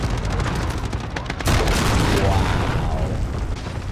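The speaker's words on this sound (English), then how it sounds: "Enemy cruise missile." A cruise missile strike rumbles through a Call of Duty Warzone match as a heavy, sustained booming roar, loud and dense, with rapid crackling gunfire-like impacts and a sharper surge midway.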